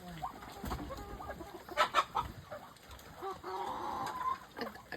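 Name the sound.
chickens clucking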